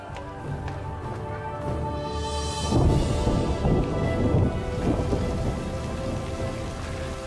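Heavy rain pouring steadily outside an apartment, a dense continuous wash that swells louder for a few seconds in the middle, with no talk.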